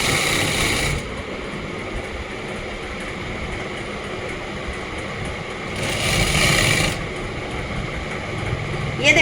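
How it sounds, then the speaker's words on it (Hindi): A domestic sewing machine stitching a kameez sleeve seam with a half-inch margin, running as a steady, close mechanical whir with louder bursts at the start and again partway through, no talk over it. "और मशीन के नीचे रख लेनी है। और 1/2 इंच का मार्जिन देते हुए सिलाई करनी है"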